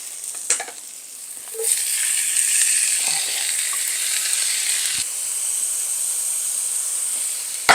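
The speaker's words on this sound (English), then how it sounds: "And we're just gonna let it just kind of fry up a little bit." Garlic and smoked paprika fry in oil, a loud steady sizzling hiss that swells after a couple of faint clicks and continues close and unbroken, with a few light knocks along the way.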